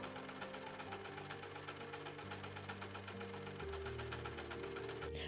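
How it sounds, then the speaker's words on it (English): An overlocker stitches a fabric ruffle with a steady, fast mechanical hum and rhythmic chatter that runs continuously. The sound is faint and even, and no voices are heard. "used my overlocker to create the ruffle"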